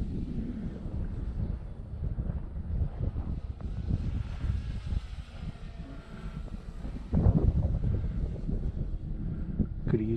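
An electric RC Mustang model airplane on a 3S 2200 battery flies overhead, giving a steady droning buzz mixed with gusty wind noise on the microphone and swelling louder near the end.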